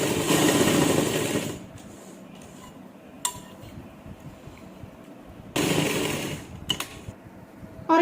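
Sewing machine stitching an umbrella frock whirs in a loud run at the start, falls quiet with a few small clicks, then starts up again for a second shorter burst.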